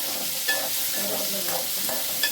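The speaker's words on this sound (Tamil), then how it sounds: "பெரிய வெங்காயம், இது கருவேப்பிலை போடுவோம்." Onion and curry leaves frying in a pan for a bitter gourd curry, a steady close sizzle with a few soft stirring clicks and no talking.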